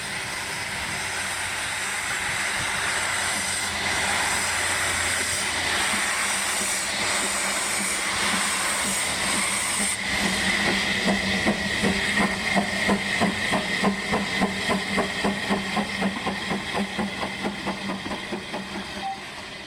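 A heritage steam train on the Paignton and Dartmouth Steam Railway above Torbay hisses loudly, then its chuffing exhaust settles into a steady rhythmic beat as it moves along nearby, with no voices.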